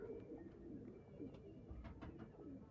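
Sialkoti pigeons cooing in low, soft repeated calls, steady and fairly close, with no voices.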